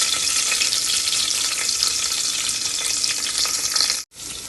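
Cumin seeds, curry leaves and chopped onion frying in hot oil for brinjal bharta, a loud, steady sizzle that drops out abruptly near the end and then resumes.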